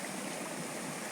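Clear stream water flows steadily near a farm, a constant rushing and gurgling wash heard close by with no voices.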